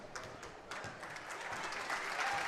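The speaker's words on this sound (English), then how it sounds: "the fans starting to clap a little bit here" Basketball fans at a girls' high school game in a gymnasium clap steadily, a soft, dense patter of scattered applause that builds slightly, with no voices over it.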